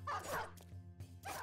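Dog barks from the video game Battle Brothers, two or three short yelping bursts close up over a steady low game hum, with gaps between them.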